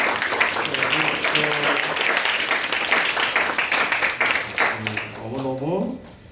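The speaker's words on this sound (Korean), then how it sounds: "우리 모든 학생들한테 큰 박수로" A Korean church congregation at a special worship service gives a big round of applause to discipleship-training graduates, loud continuous crowd clapping with a voice speaking over it and a musical tone rising near the end.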